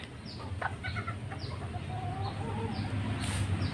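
Ornamental chickens, including cotton-feathered cochin and striped serama, cluck and chirp in a backyard coop in Bantul, Yogyakarta. Several birds give short, overlapping clucks close by over a steady background.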